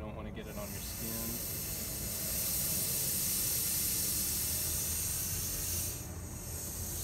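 A spray bottle of silver thiosulfate solution gives a long, loud, continuous hissing mist that stops briefly near the end before resuming, with speech faint beneath it.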